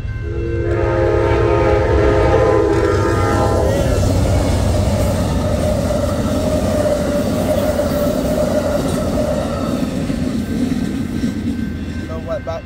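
A train passes close by, sounding a loud, sustained horn for the first few seconds, followed by steady rumbling and clatter of the cars rolling past for the rest of the stretch.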